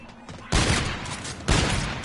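Pistol gunfire aimed at a zombie in a PS4 video game: two loud, sharp shots about a second apart, each ringing out over faint background game noise.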